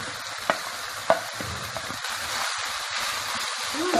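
Keema cooks in a pan, with onions added to tomatoes that have already broken down, giving a steady soft frying sizzle with a few sharp stirring clinks and clatters heard near.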